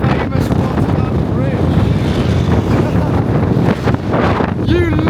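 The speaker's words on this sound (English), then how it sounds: "It's a bit windy like, I'm not gonna lie." Strong wind buffeting the microphone outdoors near a bridge in Rotterdam: continuous loud low rumble and gusting roar throughout, with faint voices in the background.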